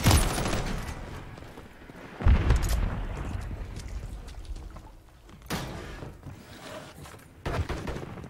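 Loud stun grenade blasts in a Call of Duty: Modern Warfare III hardcore team deathmatch, heavy booming bursts near the start and midway, with further sharp bangs later amid ongoing gunfire-like clatter.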